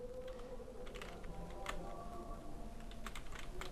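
Typing on a computer keyboard while searching in Publisher: a steady stream of light, quick key clicks at moderate distance, faint and continuous with no talking.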